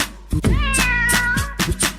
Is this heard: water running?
no